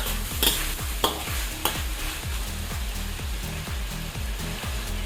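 Chicken frying in oil in a pan, with a continuous crackling sizzle broken by repeated scraping stirs of a utensil and a few sharper clacks, close and steady with no talking.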